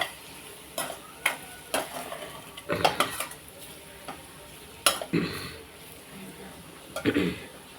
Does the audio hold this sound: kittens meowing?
no